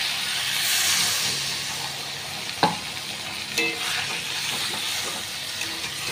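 Water poured into a sizzling pan of fish curry masala, a broad steady hiss of steam and bubbling with a few sharp clinks and scrapes of a utensil against the pan.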